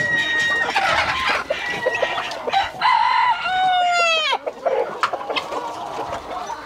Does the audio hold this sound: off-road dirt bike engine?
no